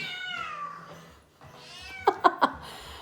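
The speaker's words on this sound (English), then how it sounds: "now I got a crazy cat in the background" A house cat meows three times in quick succession near the microphone, loud sharp calls following a stretch of someone talking.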